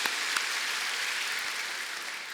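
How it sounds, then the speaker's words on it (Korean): A church congregation claps in encouragement during a Sunday morning service, a dense, even wash of applause sustained for a couple of seconds and tapering slightly at the end. "우리 응원하는 마음으로 박수 한번 힘차게 했으면 좋겠습니다."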